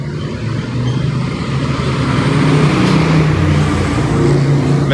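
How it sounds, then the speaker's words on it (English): Steady roar of car traffic passing close by on a street in San Francisco's Mission district, a continuous engine and tire wash that swells slightly without pause. "You got a house and then you got to hear these cars."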